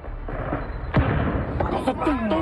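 A sharp gunshot cracks during an armed attack on army troops in Mexico amid chaotic background noise, followed by excited shouting voices.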